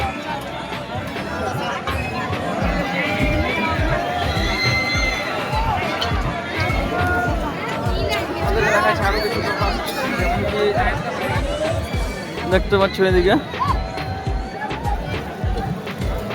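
A dense crowd at a village fair fills the air with continuous chatter and babble, with footsteps and bustle around, while a nearby voice talks over the hubbub.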